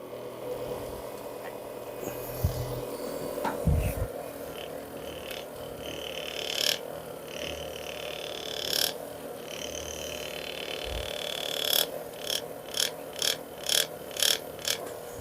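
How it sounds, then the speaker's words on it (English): Thumper massager running with an unwanted rattle, a continuous mechanical buzz with irregular clunks and a run of rapid rattling pulses near the end, close by in a treatment room. "it's not supposed to make this rattling noise. Or is that you rattling, or is that my massager?"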